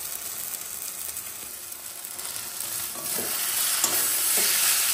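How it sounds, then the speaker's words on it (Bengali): Chicken stir-fried with spices in a pan makes a continuous near sizzle, which grows slightly louder toward the end as scraping stirs come through. "মশলা কষানো হয়ে গেছে, এবার মাংস দিয়ে কষিয়ে নেব।"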